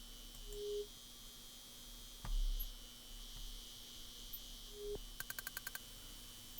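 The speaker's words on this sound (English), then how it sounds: "Some little crickets chirping." Synthesized cricket chirps from the retro adventure game Colonel's Bequest, a faint steady electronic hum with a brief rapid burst of chirping pulses near the end.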